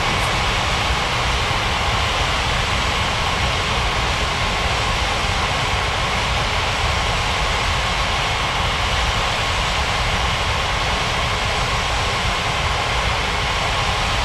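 An airliner takes off in an air traffic control video game, heard as a steady, loud, broadband engine roar that holds without a break, with no voices over it.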